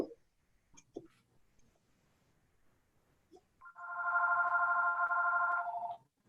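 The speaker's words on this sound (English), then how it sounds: "someone who's unmuted is getting a call." A telephone rings in one sustained electronic trill near the end, preceded by scattered faint clicks and small noises during an online church service, with no talking.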